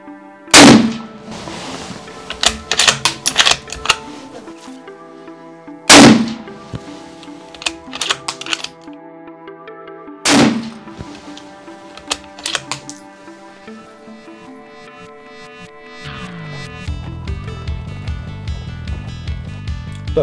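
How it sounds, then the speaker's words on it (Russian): Three rifle shots ring out during a thermal scope test at 100 meters. Each is a loud, sharp report with a ringing metallic tail, spaced about five seconds apart, and a low steady hum follows the last one. "Выстрел."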